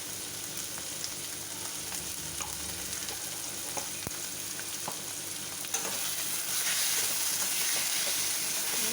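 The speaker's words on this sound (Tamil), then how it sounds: "வதக்கிடுவோம்." Carrots and sago sauté in a pan with salt and asafoetida for javvarisi upma, a continuous close sizzle broken by scattered clicks and scrapes of stirring, growing slightly louder toward the end.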